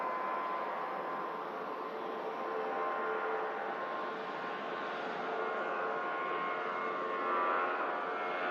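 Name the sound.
aircraft taxiing out for departure at Manchester Airport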